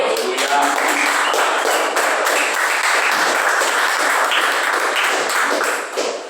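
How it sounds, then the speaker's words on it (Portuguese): Church congregation applauding during a worship service, a steady dense wash of clapping that carries on for several seconds before tapering slightly at the end. "Muito obrigado por essas palmas aí, estou muito feliz"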